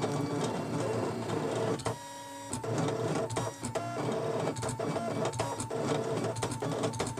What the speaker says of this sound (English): the machine prints in no pattern that I can understand